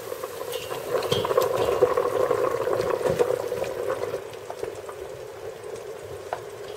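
Green asparagus dropped into a pot of water on the stove, giving a steady bubbling and light spattering boil with occasional clicks, close and continuous throughout.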